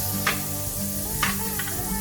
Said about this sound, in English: You can hear it sizzling, right?